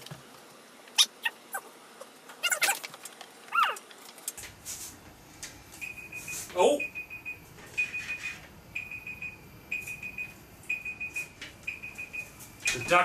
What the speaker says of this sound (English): Duck timer's going off.